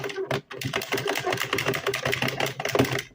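An automatic knitting mill crank being turned through several rotations, giving a continuous dense mechanical clatter and rattle close by, loud and steady with brief dips.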